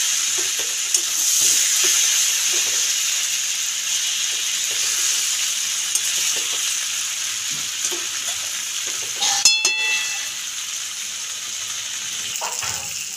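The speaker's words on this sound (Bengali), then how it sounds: "আর ঢাকা দেবো না, এরকম করেই ভাজতে থাকবো। বেশ কিছুক্ষণই নাড়াচাড়া দিয়ে ভাজতে হবে।" Green tomatoes and potatoes frying uncovered in a pan hiss and sizzle steadily, with scraping stir strokes now and then and a brief louder clatter near the end, close and with no voices.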